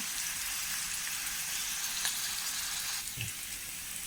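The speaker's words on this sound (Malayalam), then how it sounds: "ഉള്ളി അരിഞ്ഞതാണ് ഉള്ളി അതിലൊരു രണ്ട് വെളുത്തുള്ളി അരിഞ്ഞിട്ടിട്ടുണ്ട് അതൊന്നും മൂത്ത് വന്നോട്ടെ" Chopped onion and a couple of cloves of chopped garlic fry in oil for a prawn and jackfruit-seed curry, giving a steady, close, even sizzle with no one talking.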